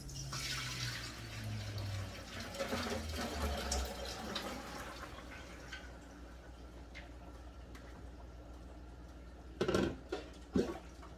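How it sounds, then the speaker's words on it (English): Water is strained off cooked red beans, a soft, fairly quiet pour and trickle that tapers off, followed by a couple of brief splashy bursts near the end. "let me go ahead and strain this, okay, the water off of this"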